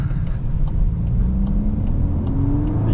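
A 2024 VW Golf R with DSG accelerating in race mode, heard from inside as a loud, steady engine drone whose pitch climbs smoothly through the rev range, with no one speaking.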